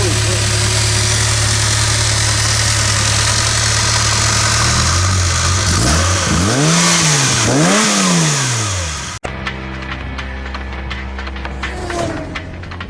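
A DeLorean's swapped-in Eagle Premier 3.0 V6 with a stage 1 exhaust idles, then revs up and down several times with a throaty exhaust, followed by a rougher idle close by.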